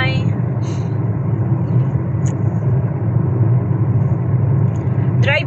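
A car on a summer road trip rolls along with a steady, close low engine and road rumble throughout, a few faint higher chirps drifting over the drone.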